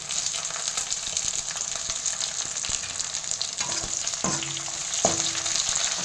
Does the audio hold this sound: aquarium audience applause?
no